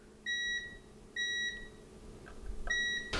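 Multimeter continuity beeps while testing the shielding in a guitar's control cavity: two short clear tones, then a third, with faint handling clicks between them in a quiet room.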